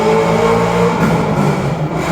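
A car passes nearby on a downtown street, its engine note rising and falling as it goes by, loud and continuous with no talk over it.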